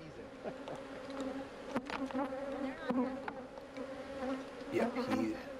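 Honey bees buzz in a continuous, wavering drone during a hive inspection, with individual bees passing close by and some distant talking in the background.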